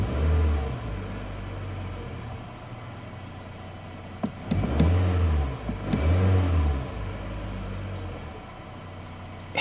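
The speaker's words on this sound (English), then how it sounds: "One other thing too, I'll rev it up here." A 2022 Nissan Altima SV engine idling steadily, then revved twice in quick succession, each rise swelling loud and close before dropping back to idle.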